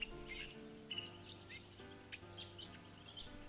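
A red-capped robin sings faint, high chirping song in short repeated phrases over a quiet background.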